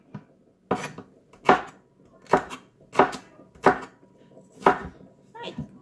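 Kitchen knife chopping vegetables on a board, with about seven crisp, separate thuds at a steady, unhurried pace, close and clear with no talking.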